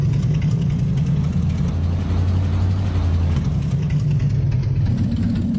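A vintage Ford 534 cubic-inch V8 in an F800 custom truck, simulated in American Truck Simulator, idles with a steady, loud, low rumble and a brief deeper swell in the middle.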